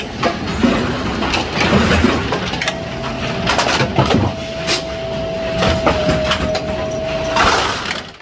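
Brunswick GSX bowling pinsetter mechanism running, a steady mechanical clatter and rumble with a sustained whine partway through and irregular knocks and rattles throughout, fairly loud and close.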